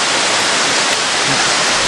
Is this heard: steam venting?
no